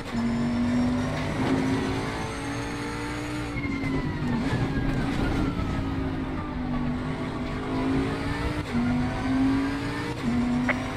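GT3 race cars in the racing game Assetto Corsa Competizione at Paul Ricard, including a Bentley GT3, roar continuously with steady engine drones and pitch shifts as several cars run close together throughout.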